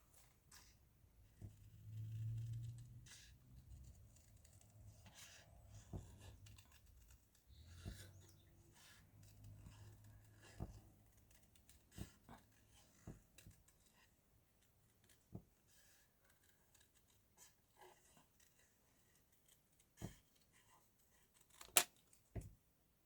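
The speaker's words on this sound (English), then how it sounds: "let's do a little fussy cutting here" Paper being fussy-cut with scissors at a craft table, heard as faint, scattered snips and rustles spread across a quiet stretch, with a few sharper clicks near the end.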